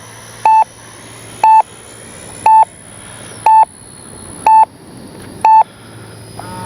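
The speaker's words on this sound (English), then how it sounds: "Timer expired." A model F/A-18 Hornet RC jet's transmitter sounds its timer-expired alarm: six short, identical, evenly spaced electronic beeps about one second apart, loud over a faint background hum.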